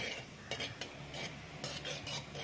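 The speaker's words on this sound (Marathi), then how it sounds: "म्हणून आपण प्रथम काजू तळून घेऊया." Cashews fry in gently heated oil, a soft steady sizzle broken by repeated scraping stirs of a spoon in the pan, close and without talk.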